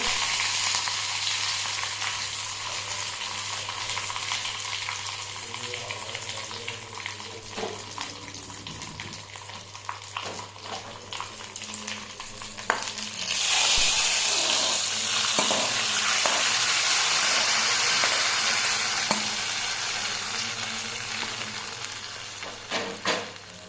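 Curry leaves dropped into hot oil with reddened fenugreek seeds for a Kerala ashgourd moru curry set off a bright, steady sizzle that swells louder partway through, with faint clatter around it and no talking.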